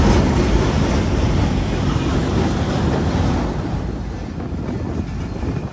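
Karakoram Express train running, a steady loud rumble and rattle of wheels and carriages heard from on board, slowly fading slightly toward the end.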